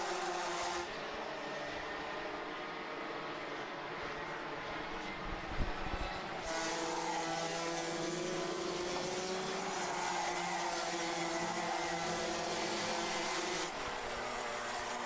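Racing karts in a United Karting Series race pass and jostle for position, a steady high buzzing engine drone from several karts with rising and falling pitch, continuous and fairly loud throughout.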